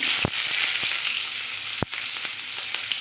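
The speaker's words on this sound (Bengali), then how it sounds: "তো দেখো হালকা করে পেঁয়াজটা ভাজা হয়ে গেছে।" Chopped onion fries in hot oil with a steady bright sizzle, punctuated by a few sharp clacks of a spoon against the pan; no one speaks.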